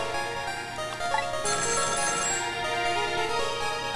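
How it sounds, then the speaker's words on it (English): Telephone ringing in the video game Ghost Trick, an electronic ringtone trilling continuously and fairly loudly over layered game music, with no one talking. "Oh, the phone's ringing."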